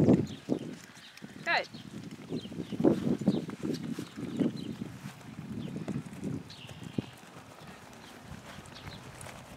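Horses walk during a riding lesson while an instructor talks over them, their soft hoof clops faint and irregular under the voices.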